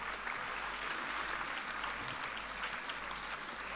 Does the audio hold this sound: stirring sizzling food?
no